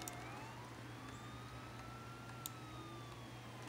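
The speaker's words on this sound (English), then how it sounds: "so you can actually hear my siren" Police car siren in a vehicle simulator video game, a faint wailing tone that rises and falls steadily under a constant engine hum.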